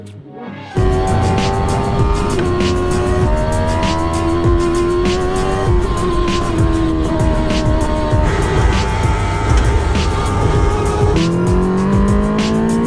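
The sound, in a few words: Fiat Grande Punto race car engine on track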